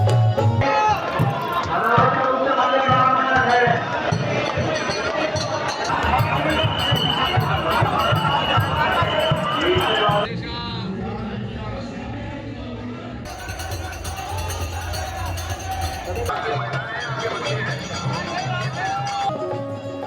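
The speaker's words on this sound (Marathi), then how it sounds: "भक्तिमय वातावरण आणि ढोल मृदुंगाच्या गजरात रंगांची उधळण आणि आनंदाचा जल्लोष" Dense festive crowd at Holi celebrations in Barsana, Uttar Pradesh, with steady loud hubbub, shouting and rhythmic drumming from dhol and mridang, continuous throughout with a brief dip in energy midway.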